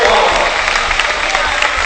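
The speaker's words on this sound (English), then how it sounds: "Yamada's going to get a nice round of applause" Crowd at a Maryknoll vs. Iolani high school boys basketball game applauding a player fouling out, a dense, loud round of clapping with crowd noise and voices mixed in.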